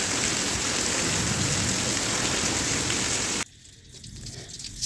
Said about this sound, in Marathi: त्यानंतर दुपारी खूप जोराचा पाऊस आला.